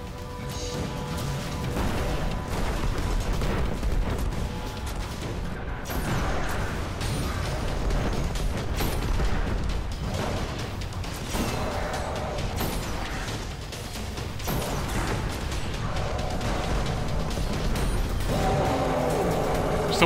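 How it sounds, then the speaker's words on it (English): Dense, continuous in-game explosions and mechanical clatter from the video game Destiny, loud and chaotic throughout with repeated blasts and crashes layered over one another. "many explosions"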